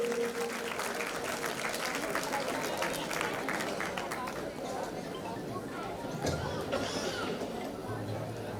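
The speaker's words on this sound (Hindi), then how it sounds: "एक जोरदार ताली होनी चाहिए हमारे जीजा जी के लिए भी।" Clapping from a crowd at a Shyam devotional festival gathering, a steady sustained patter of many hands mixed with crowd chatter and voices, moderately loud and continuing unbroken for several seconds.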